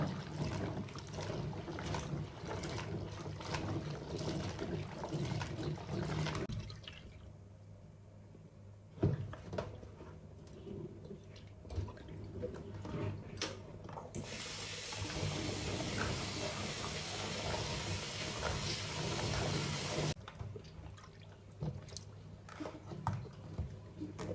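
Tap water runs steadily for several seconds as bamboo shoots are washed for a traditional Lao bamboo shoot curry, a broad hissing stream that starts midway and stops abruptly, with kitchen clatter before it.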